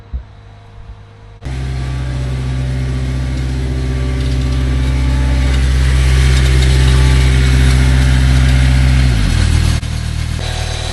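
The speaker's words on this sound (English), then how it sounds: "This is our HAYTER Triple Mower, guys, and we're going to go in the field now and start cutting some grass." A Hayter triple ride-on mower's engine starts with an abrupt roar and settles into a loud, steady running drone close by, then drops in pitch near the end, with no talking.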